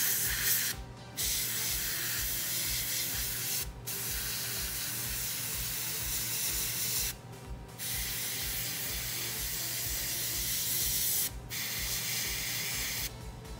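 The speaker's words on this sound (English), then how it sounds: "You can see I already did a little bit of overspray here." An airbrush sprays thinned paint onto a model in steady continuous hissing bursts, each running several seconds and separated by brief pauses, close and fairly quiet.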